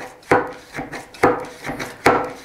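A hand pump draws air from a vacuum jar lid through a valve and rubber seal, giving three sharp, close strokes at a regular pace, each a short rasping puff.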